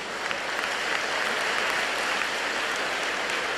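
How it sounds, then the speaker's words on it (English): An audience at a university achievers day ceremony applauds the students' parents, a steady, dense wash of clapping from many hands that holds evenly throughout without voices. "All the students, please stand up and give a big round of applause for your parents."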